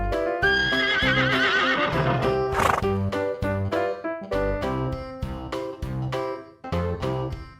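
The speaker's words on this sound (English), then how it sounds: "Horse." A horse whinnies loudly over a steady, plucky children's song with a bouncing beat, the neigh rising and trembling near the start before the music carries on alone.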